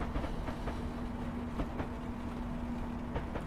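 A South Western Railways train running steadily in Train Sim Classic, with a continuous rumbling roll, a sustained tone and faint periodic clicks of wheels over rail joints, heard alone throughout.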